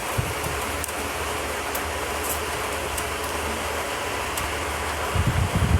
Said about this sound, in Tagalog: Umuulan sa Pinas, guys. Di nyo ba alam? Sobrang lakas na.